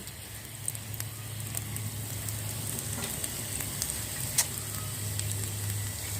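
Chopped ginger fries in a few spoonfuls of oil in a pan, a faint, even sizzle with scattered light pops and a low hum underneath, no voices.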